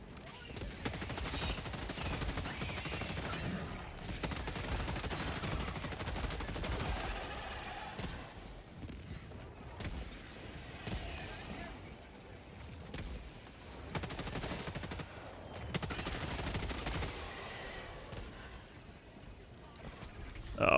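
Rapid gunfire from the LAS-16 Sickle laser rifle in the video game Helldivers 2, fighting Terminids: dense, continuous bursts of shots with brief lulls, mixed with game effects and some talk.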